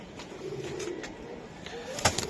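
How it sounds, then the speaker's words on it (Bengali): An army racing pigeon gives soft, low cooing murmurs up close, a few gentle throaty notes over faint background noise, ending with a brief sharper sound. "অরিজিনাল আর্মি কবুতর এটা দৌড়ানোর জন্য তাই না রেসের জন্য"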